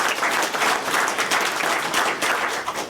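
Sustained applause from an audience at a congressional caucus event on Capitol Hill, dense steady clapping filling the whole stretch at close, even loudness with no voices over it.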